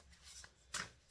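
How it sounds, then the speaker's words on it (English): Tarot cards shuffled close up in a quiet room, a soft riffle followed by a louder, brighter burst of cards slapping together near the end. "Whilst we're shuffling the cards for today,"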